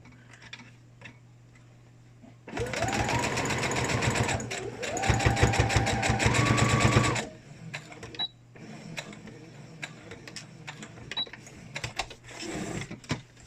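Sewing machine stitches a homemade fabric face mask in a continuous close, rattling run of about four and a half seconds, its pitch rising and falling with speed, followed by light ticks and handling sounds.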